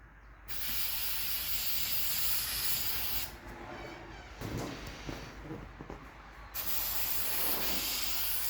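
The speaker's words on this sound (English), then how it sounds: "So now I need a bit more spray glue at the back here." Long steady hiss of spray glue from an aerosol can onto a Triumph Spitfire seat cover, in several bursts separated by brief pauses, loud and close.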